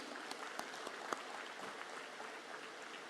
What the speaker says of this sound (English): could we have a louder round of applause for Sir